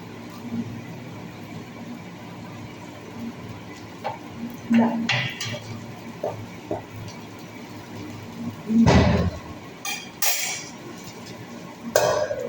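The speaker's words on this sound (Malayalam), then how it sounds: "ഇപ്പോൾ ചക്കക്കുരു വെന്ത് കാണാൻ സാധ്യതയില്ല, എങ്കിലും നമുക്കൊന്ന് ഫ്രൈ ചെയ്ത് നോക്കാം." Scattered metal clinks and scrapes of a spoon against a pan as jackfruit seeds are fried and stirred, with a low steady background hiss and a few louder clatters spaced apart.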